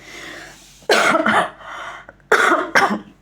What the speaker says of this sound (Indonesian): saya masih agak batuk